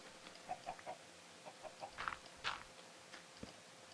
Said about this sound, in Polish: Czemu kurczaki pływają w wodzie poważnie?